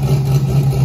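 Chevy Blazer engine fitted with a Dominator carburetor idles steadily up close, a loud, even low rumble with no pauses and no talking.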